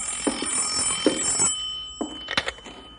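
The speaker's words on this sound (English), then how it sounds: "You want me to get the phone, Bill?" An old telephone bell rings at a ranger headquarters in a radio drama, a few clear ringing bursts close by with no voices.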